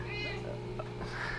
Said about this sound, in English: there's Lily, that's the cat that likes to watch them.